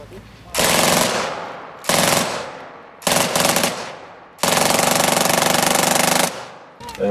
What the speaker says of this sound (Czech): předvede nám zkušební střelbu z kulometu MG42